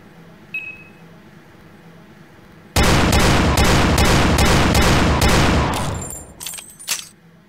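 After a quiet start, a video game revolver fires in a sudden, loud burst of rapid, closely spaced gunshots lasting a few seconds, then fades into a ragged tail of scattered echoing shots.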